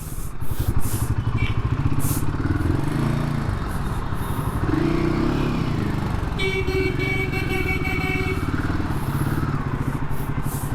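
A Royal Enfield Himalayan 450 motorcycle engine idling and pulsing during a slow parking maneuver, a steady, close, throbbing rumble with slight rises in revs throughout.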